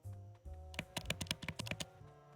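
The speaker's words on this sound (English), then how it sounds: "I can hear Furious typing." Rapid keystrokes rattle on a computer keyboard in a dense burst of about a dozen sharp clicks, close and fairly loud, following a brief low hum.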